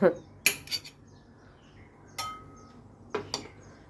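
A knife cutting okra by hand without a cutting board, giving a few sharp, sparse clicks and taps of the blade, close and fairly quiet, with no talk.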